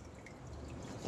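Water runs into home brewing equipment as a soft, steady trickle of filling liquid, with a faint dripping texture that grows slightly louder toward the end.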